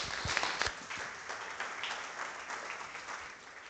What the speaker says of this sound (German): Da gilt übrigens ein kleiner Applaus an die Ute von der Baloa